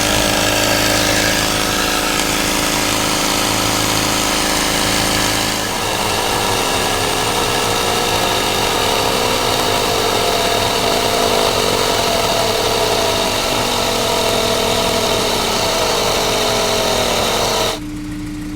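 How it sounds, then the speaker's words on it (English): Michelin portable tyre inflator pumping a Yokohama AD08R car tyre toward 30 psi, a loud, steady buzzing compressor drone with a shift in tone partway through, running continuously until it cuts off near the end. "So it took this Michelin tire inflator 4 minutes and 48 seconds to pump this Yokohama AD08R tire to 30 psi"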